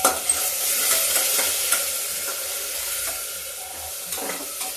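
Keoti dal, a UP-style lentil dish, is stirred and roasted in a pan over a cumin tempering, giving a steady close sizzle broken by repeated scraping strokes of the spoon, with no voices.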